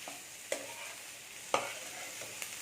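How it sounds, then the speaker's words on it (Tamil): Fish pieces frying with sautéed onions in a pan, a soft continuous sizzle broken by three sharp spatula scrapes, close and without speech. "இப்போ மீனை இது கூட சேர்த்தேன் இதையும் சேர்த்து நல்லா பரப்பி விட்டுறேன்"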